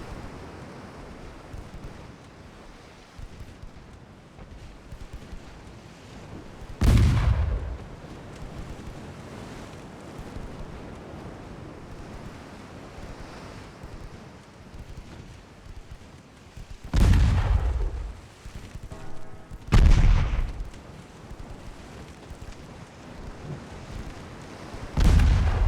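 Naval 3-inch guns fire in the naval battle game Ultimate Admirals Dreadnoughts, four separate booming shots spaced across a steady bed of wind and sea noise.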